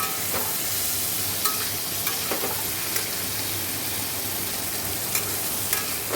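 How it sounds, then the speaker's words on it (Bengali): Bitter gourd frying in a pan, a steady low sizzle with a few faint crackles and occasional soft stirring taps, close by and uninterrupted. "এদিকে দেখো উচ্ছে ভাজা হচ্ছে"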